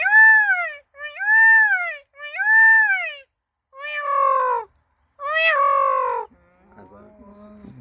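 A man imitates a peacock's call with his voice, giving five loud, wailing calls in a row, each rising and falling, before the sound fades into faint background noise.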